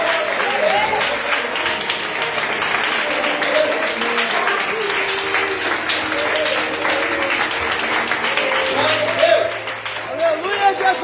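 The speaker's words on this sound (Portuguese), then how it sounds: "Aplauda o Senhor pela vida dela." Church congregation applauding during a Sunday service, sustained dense clapping filling the room while a voice speaks loudly over it and music plays underneath.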